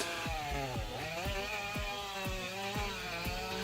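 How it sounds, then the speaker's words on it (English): A big chainsaw engine roars continuously at close range, its pitch dipping and rising in repeated cycles as it bites into a massive tree trunk. "This is elite chainsaw control paired with raw cutting power."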